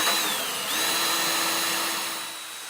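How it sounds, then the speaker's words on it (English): A power drill whines steadily and close by as it bores holes through L brackets into the high corrugation of metal roofing, with the pitch dipping briefly under load. "drill holes through the L brackets and into the high corrugation of the roofing"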